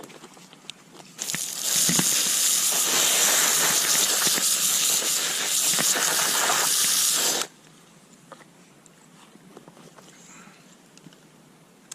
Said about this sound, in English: let's hit it with the garden hose